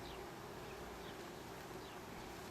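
Honeybees buzz around an opened GrassHopper beehive during an inspection, making a faint, steady, droning hum with no speech.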